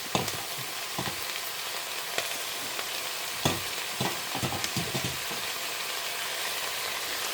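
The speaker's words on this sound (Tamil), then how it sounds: "வெந்தயக்கீரை வாங்கியிருக்கேன், அதையும் இதோடு சேர்த்து வதக்கின்றலாம்." Fenugreek leaves sauté in a pan, a continuous close sizzle and fry with repeated stirring scrapes and occasional knocks, and no voices.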